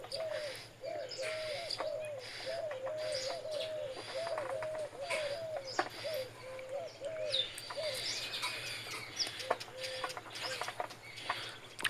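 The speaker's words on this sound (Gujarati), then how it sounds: "કાબર છે એક કોયલના બસાને ખવડાવે છે રોટલા લઈ લઈને" A myna feeding a koel chick with pieces of roti, with a steady series of short, hooting coo-like bird calls repeating in a regular rhythm against a constant low background hum.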